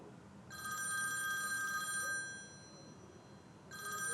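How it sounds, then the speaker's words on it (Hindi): A phone rings for an incoming call in a quiet room, an electronic ringtone sounding in two bursts separated by a pause, clear and fairly close with no talking over it. "तानिया की कॉल आ रही है,"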